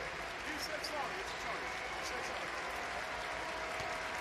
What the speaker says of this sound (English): some of the fans of Kyoto that have made their way here to the Okinawa Arena, clapping for it